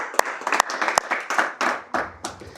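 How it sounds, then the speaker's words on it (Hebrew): Scattered hand claps from a small audience at an evening Torah class for youth in Harish, a handful of sharp claps building into brief uneven applause, fairly close, with no talking over it. "נראה לי מגיע מחיאות כפיים לאלישע, על הארגון ועל היוזמה"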